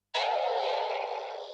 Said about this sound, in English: we're going to use sample number 4 on my free scratch sample tool